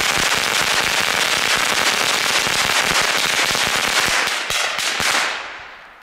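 A string of small Belgian Kalashnikov firecrackers goes off outdoors in a loud, rapid, continuous crackling barrage of bangs, then tapers off at the end.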